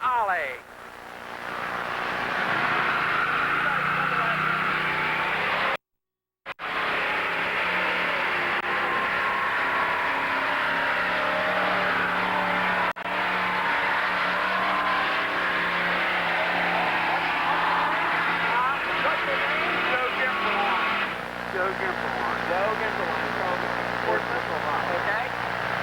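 A pulling tractor roars at full power as it drags a sled down the track at a 1985 tractor pull in Teays Valley. The loud engine is sustained for about twenty seconds, with an announcer's voice over it.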